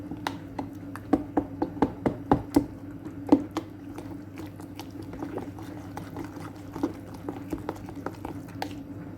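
Leftover pasty and bake being mixed with water in a jug, a run of wet squelching and sloshing clicks in quick bursts that thin out into softer stirring, close and fairly quiet.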